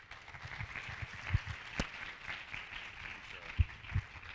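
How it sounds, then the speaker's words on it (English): Audience applause at a human trafficking awareness conference, a soft, distant patter of clapping from a crowd with a few sharper nearby claps, fairly quiet overall. "Let's give the Sheriff another round of applause."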